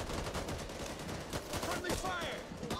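Rapid gunfire rattles in bursts during a Back 4 Blood co-op round, loud and close with overlapping shots as a teammate gets hit by friendly fire.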